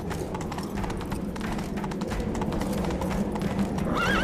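A horse gallops in The Witcher 3 video game, with fast rhythmic hoofbeats close by and a brief whinny near the end.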